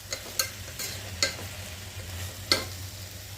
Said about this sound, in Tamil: சேர்த்துட்டு எண்ணெயிலே ஒரு 5 நிமிஷத்துக்கு வந்து வதக்கிக்கலாம்.